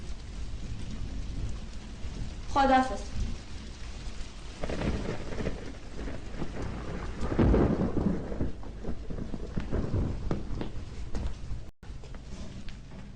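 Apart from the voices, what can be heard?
heavy rain with thunder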